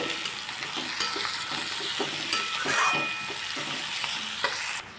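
Vegetables with salt being stirred in a hot pan, a steady sizzle of frying with repeated scraping strokes of the spoon, close and continuous, no voices.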